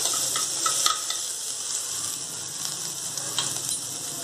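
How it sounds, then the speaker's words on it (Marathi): Onion and garlic sauté in a pan with a steady close sizzle. Intermittent spatula scrapes and clicks cut through as the pieces are stirred, and no voice is heard. "कांदा आणि लसूण हा चांगला ब्राऊन कलरचा परतू द्यायचा, ब्राऊन कलरचा होऊ द्यायचा, छान परतू द्यायचा हा कांदा"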